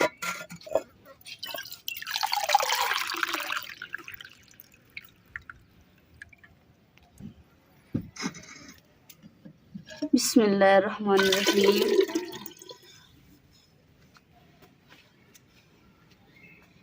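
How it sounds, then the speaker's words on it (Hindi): Water poured into a cooking pot for porridge in a home kitchen, heard as two splashing, gurgling bursts, the second louder and fuller, with someone speaking briefly between them. "हांडी दे विच ना मैं पानी पा दूंगा"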